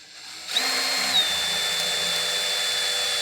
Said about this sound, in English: short, sharp bursts with the drill will get them in.